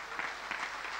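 Applause from a concert audience: a steady wash of many hands clapping, dense and sustained, heard from within the hall without any talking over it.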